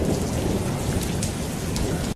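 Heavy rain pours in a dense, loud continuous hiss with faint thunder rumbling underneath, played back from a martial arts video, cutting off abruptly at the end.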